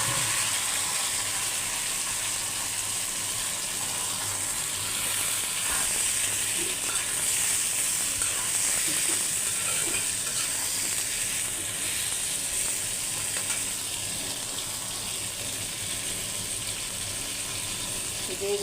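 Onions and tomato frying in oil in a home kitchen pan, giving a steady, close hiss of sizzling that runs unbroken throughout with slight stirring.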